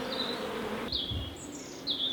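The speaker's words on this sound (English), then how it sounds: "All the flying bees are going back in the hive" Honeybees flying back into their hive in a UK apiary, a steady close buzzing drone with several individual bees whining past near the microphone.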